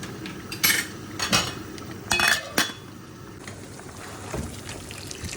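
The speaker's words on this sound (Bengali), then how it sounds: "আমি একটু নাড়াচাড়া করে শুটকির সাথে সব কিছু মিশিয়ে দিচ্ছি" Utensil scraping and clinking in a pot while dried fish curry with potatoes and beans is stirred, several short bursts of stirring close up, then quieter simmering background, no talk.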